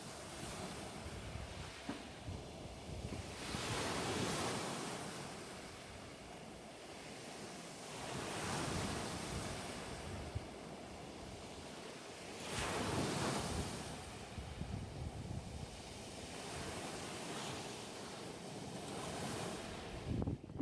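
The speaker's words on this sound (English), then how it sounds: "I'm noticing the sound of each wave as it gently crashes on the shore." Ocean waves gently break on the shore in slow swells about every four to five seconds, a soft washing surf with some wind rumble, heard alone without voices.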